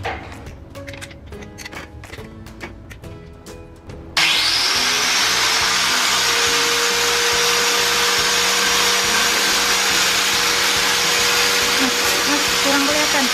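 A Mollar AG9500 4-inch electric angle grinder whirs up abruptly and keeps running with a loud, steady high-pitched whine after some scattered clicks and handling noise.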